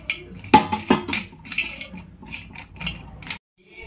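Roasted almonds, cashews and pistachios poured from a pan onto a plate, a burst of hard rattling clinks and scrapes tapering into lighter scattered ticks before falling silent.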